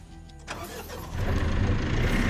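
The engine of a GI-1 tactical off-road vehicle catches and revs, the rumble swelling in two steps into a steady, loud roar, heard close with no talking.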